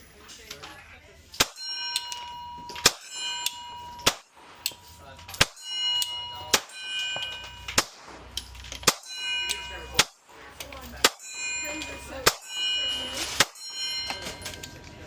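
Gunshots from a pistol firing 147-grain rounds ring on a steel target at a range, about a dozen sharp metallic clangs spaced a second or so apart, each with a bright ringing tail.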